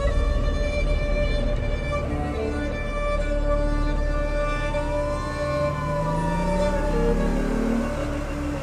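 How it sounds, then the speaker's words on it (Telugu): Ambulance siren wailing continuously, with rising and falling tones over a steady low traffic rumble, loud and sustained with no talk. "ఆ అంబులెన్స్ ఎక్కడికి వెళ్తుందో చూసి చెప్పు"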